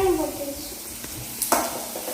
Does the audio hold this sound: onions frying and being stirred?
yes